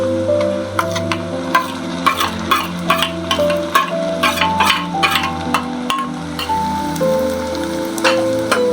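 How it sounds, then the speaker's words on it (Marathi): A ginger, garlic, coconut and coriander paste fries in oil with tomato in a pan while being stirred, giving a steady close sizzle broken by repeated scraping and clicking strokes of the spoon. "हलवून घेते."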